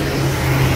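Traffic at a roadside viewpoint in Teresópolis, a steady close car engine hum and whir filling the short moment with no pauses.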